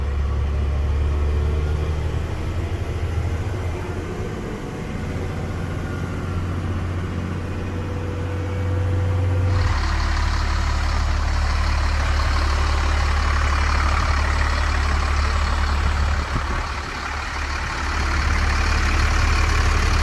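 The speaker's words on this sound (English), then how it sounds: "Most of what we're hearing is the exhaust." A Unimog U500 truck engine idles steadily with a deep rumbling exhaust, loud and close, growing slightly fuller partway through.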